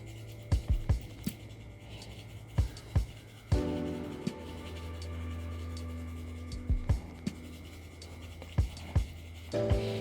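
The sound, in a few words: graphite pencil shading on paper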